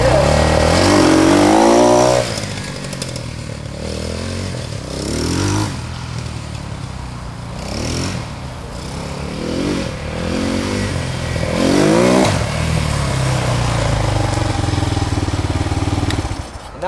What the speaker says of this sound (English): if you really want to go fast, and you want to accelerate, you kind of move up a little bit on the ATV